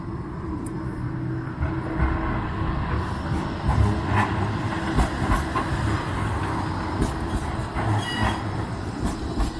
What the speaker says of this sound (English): We've got a tram.